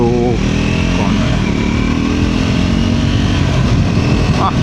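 A Triumph Scrambler 400 XC motorcycle being ridden, its engine note steady and loud up close with a constant droning hum and slight pitch shifts, over heavy wind rush.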